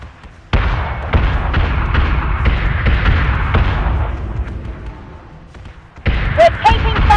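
Flak cannon fire in the space combat game Battlestar Galactica Deadlock: rapid, continuous rumbling volleys of thudding bursts for several seconds, loud and close, then a short lull before sharper impacts and metallic pings return.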